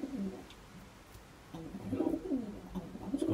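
Racing pigeons from a Barcelona-winning family coo in repeated soft, throaty rolls, rising and falling nearby with short pauses between calls.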